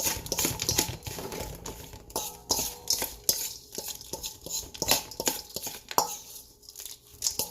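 Meatball mixture worked and fluffed by hand in a bowl, giving close, irregular squishing, tapping and clicking sounds in quick bursts, steady throughout with no talk.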